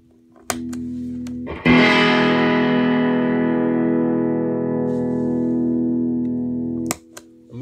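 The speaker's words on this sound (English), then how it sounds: "A massive boost and quite a lot of distortion." An electric guitar run through a Tone City All Spark boost pedal set for a heavy boost with lots of distortion: one loud, sustained distorted chord rings out and decays for several seconds, framed by brief string hits.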